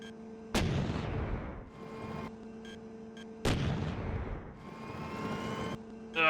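Two booming tank cannon shots with explosions in an Unreal Engine 4 game, each a sharp blast that rolls off into a long rumbling decay, spaced about three seconds apart, loud and close.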